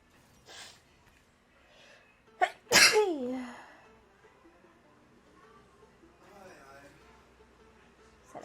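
A person gasps and then lets out one loud, close sneeze, followed by quiet breathing and soft background music, with faint talking later on.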